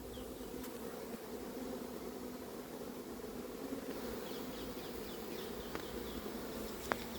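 A swarm of honeybees covering a hive drones in a dense, continuous hum, steady and close, with occasional individual bees buzzing past and no voices.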